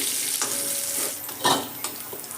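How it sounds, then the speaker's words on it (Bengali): Eggplant pieces fry in hot oil with a steady, close sizzle. A few louder stirring scrapes break through the sizzle, and no one speaks. "বেগুনটা আমার ভাজা হয়ে গেছে।"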